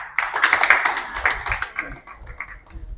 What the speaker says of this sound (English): let's give another round of applause to Naka